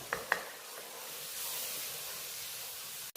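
A chickpea and potato gravy mixture for chana masala is stirred in a pan: faint, steady hissing with a couple of soft spoon clicks at the start.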